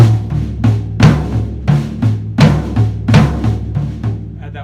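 Two drums play a Bo Diddley beat with flams on each accent, loud and close, in a steady syncopated pattern of roughly a dozen strokes with nobody talking.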